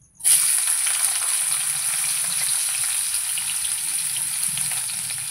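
Chopped onions hit hot white oil in a wok with a sudden loud burst of sizzling that settles into a steady, bright hiss.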